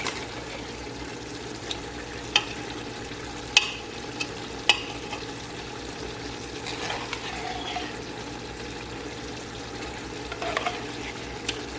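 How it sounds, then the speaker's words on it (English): Tomato sauce simmering and cooking down in a pan gives a continuous close bubbling sizzle, with occasional sharp clicks and scrapes of stirring scattered throughout. "The tomatoes are cooking down pretty good."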